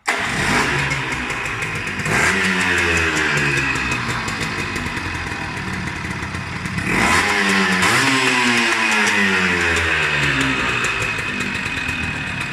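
A Gilera motorcycle engine, left standing for a while, cranks and catches twice, then settles into a loud, rough idle with bursts of revving, close by indoors and without talk.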